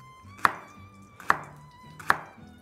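A knife slices leek on a cutting board for Romanian leek soup, three sharp, evenly spaced chops close up with quiet pauses between them.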